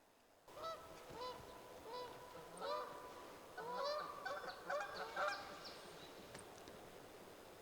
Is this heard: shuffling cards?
no